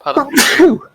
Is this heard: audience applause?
no